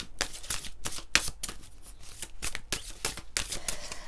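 A deck of oracle cards is shuffled by hand in a quick, irregular series of crisp riffling bursts with short pauses between, fairly close and clear, no one speaking.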